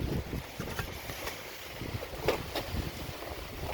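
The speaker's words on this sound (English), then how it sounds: "It's very windy and rainy." Strong wind and pouring rain in a Toronto thunderstorm, a loud roaring rush with microphone buffeting and scattered sharp pattering hits, continuous and close with no speech.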